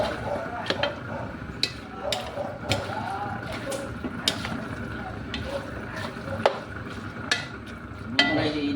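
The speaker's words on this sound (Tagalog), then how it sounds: "Gisa muna natin tong laman loob na ginayat-gayat ko." Chopped pork innards sautéing in a pot for dinuguan, a steady sizzle broken by repeated sharp scrapes and clinks of a spoon stirring against metal, close up, with a voice speaking at times.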